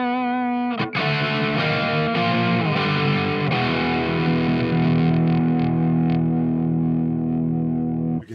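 Electric guitar through a Valco KGB fuzz pedal: a loud, thick distorted chord rings out and sustains, the fuzz gradually thinning away until mostly the plain amp tone remains, ending with a quick cutoff.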